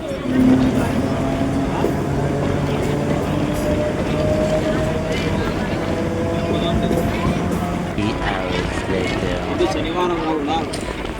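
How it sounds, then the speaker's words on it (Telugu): A passenger train bound for Kamalapuram rumbles along with a steady rolling drone and faint clatter heard from inside the carriage, while people talk and chatter over it throughout. "ఇప్పుడు అయితే ట్రైన్ వచ్చేసింది"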